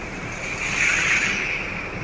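The Beas river runs swollen and muddy after heavy rain, a steady broad rushing roar of fast water, close and continuous with no voices.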